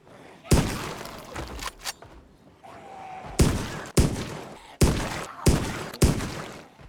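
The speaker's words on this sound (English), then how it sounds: "we'll give them a couple blasts of the shotgun" Shotgun blasts in the zombie survival game Project Zomboid ring out as about six loud, sharp broadband bangs in an irregular sequence, each with a brief decaying tail, separated by quieter game ambience.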